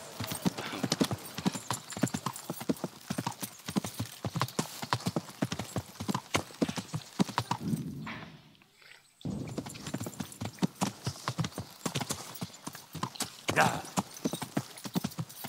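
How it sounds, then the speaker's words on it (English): Rapid, rhythmic hoofbeats of a galloping horse in the video game Kingdom Come clatter close by, continuing steadily apart from a brief muffled pause midway. "They clearly can hear the horse galloping."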